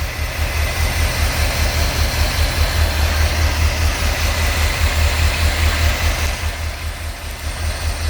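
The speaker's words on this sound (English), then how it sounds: "See how clean it is? How nice and smooth this engine runs." A 1982 Chevrolet Corvette C3 engine idles smoothly, a steady close low rumble with even pulses that holds for several seconds without any talk.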